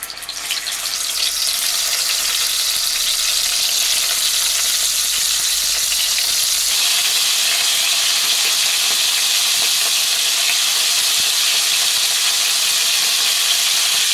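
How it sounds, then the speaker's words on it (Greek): Meat pieces fry in hot butter and olive oil in a heavy pan, giving a loud, dense, continuous sizzle and hiss that holds steady at close range throughout, with no voices. "Αφού το λάδι έχει κάψει, θα προσθέσω λίγα τα κομμάτια του κρέατος."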